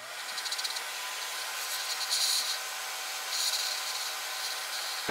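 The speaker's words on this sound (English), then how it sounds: "clean with the cotton swab" A cotton swab scrubs melted flux off an Xbox One S circuit board, faint repeated rubbing strokes with soft hissy bursts over a steady background hum.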